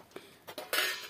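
Metal kitchen utensils scrubbed with stove ash are washed by hand, giving a few soft scraping clinks and a louder rinsing splash near the end, close and fairly quiet with no talking.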